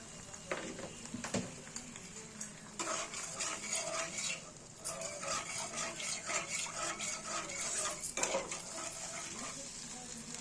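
A spoon scrapes and clinks steadily around a bowl as sugar is mixed into dhokla batter, close and continuous for about ten seconds with no voices.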